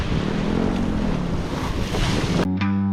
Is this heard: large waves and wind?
yes